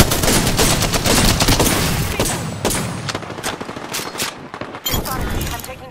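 Loud, rapid bursts of gunfire hit the player in Apex Legends, a dense barrage that fades and returns in shorter volleys toward the end.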